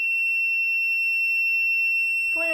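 Electronic buzzer in a Cretile robotics kit sounds a steady, loud continuous tone, cutting off near the end as other brief tones and sounds follow.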